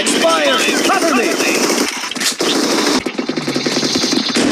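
Rapid gunfire from the mobile battle royale game BGMI, with dense automatic bursts and sharp shots running almost continuously at high loudness, mixed with game effects and voices talking over it.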